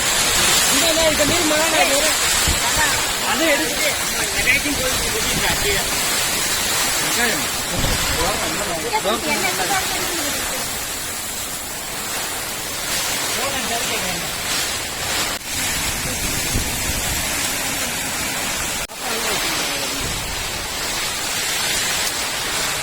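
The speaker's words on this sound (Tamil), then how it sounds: "மழை பயங்கரமா அடிச்சு பெஞ்சிட்டு இருக்கு" Heavy rain pouring down in a village, a loud, continuous wash of broadband hiss that fills the scene while people talk over it, easing slightly partway through.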